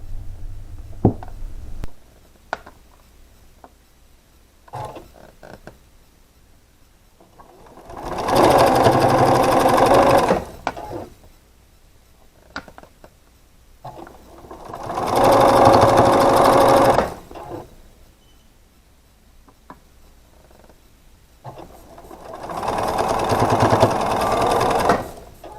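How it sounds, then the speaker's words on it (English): A sewing machine stitching half-square triangle quilt pieces runs in three steady, loud bursts of a few seconds each, separated by quiet pauses with small handling clicks. "let's go to the machine and sew these."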